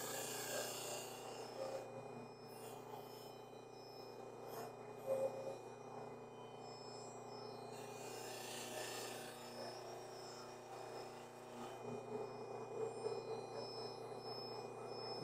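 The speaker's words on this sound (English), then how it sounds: "plastic buffs up real well." Plastic being buffed to a shine, a steady soft rasping rub that continues for the whole stretch at low level, with brief louder strokes; no talking.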